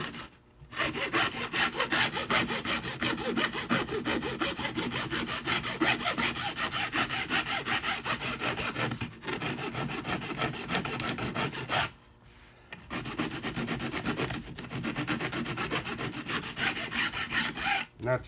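A metal file rasps steadily across guitar fret ends in close, continuous strokes, broken by a few short pauses, with no talking.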